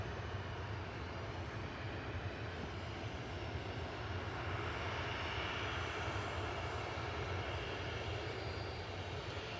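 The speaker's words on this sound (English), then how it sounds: "Jet2 heading off to Reus" A Jet2 jet airliner departing Manchester Airport produces a steady, loud, continuous engine roar that holds for the whole stretch with no talk.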